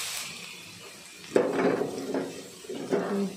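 Beetroot pieces tipped into hot oil in a frying pan for a home-style beetroot and egg curry, giving a sudden close clatter and sizzle that swells in a few bursts as the pan is handled.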